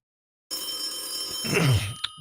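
A telephone bell rings loudly and close, one sustained burst, with a faint murmur of a voice near the end.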